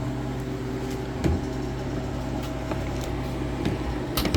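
Freeze dryer running its freezing cycle, a steady mechanical hum with a constant tonal drone and faint intermittent clicks, close and continuous with no talking.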